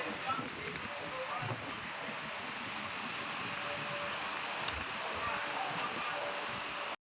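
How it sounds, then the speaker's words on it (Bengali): Gusting wind blows across a rooftop in Durgapur while rain falls, a steady, fairly quiet rushing wash; a person speaks over it. "তো পুরো একদম হাওয়া দিচ্ছে, তার মধ্যে বৃষ্টি পড়ছে।"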